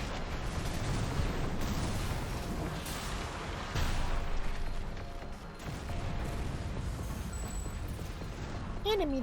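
Grenade launchers fire in a vehicle combat video game, a continuous rumbling barrage of dull booms rolling under the mix, with voices talking over the top.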